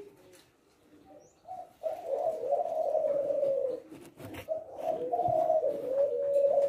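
A spotted dove of the leopard silver variety coos in repeated low, rounded phrases, close and clear against a quiet background.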